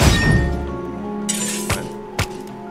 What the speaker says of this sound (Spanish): Si tiro esto, romperé los cristales.